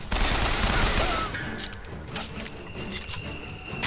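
Dense, loud gunfire fills the scene in the video game BioShock Infinite, a steady barrage of shots and fusillade with no break.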